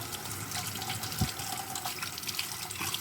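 Tap water runs steadily into a kitchen sink while a piece of ginger is rinsed under it, a continuous hissing splash with one brief knock partway through.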